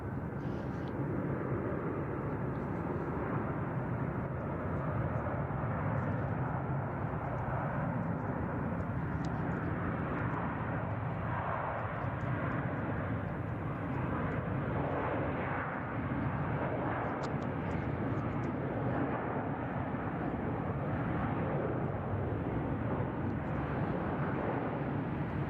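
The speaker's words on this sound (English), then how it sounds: "It's 757-300 heading off to Honolulu with United." A United Boeing 757-300 airliner departs San Francisco International Airport for Honolulu, its engines a steady, loud broadband roar that holds evenly for the whole stretch without letting up.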